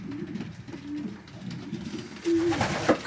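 A checker hen pigeon coos in a loft, several low soft coos spaced across a few seconds, close by, with faint background rustle and no talk.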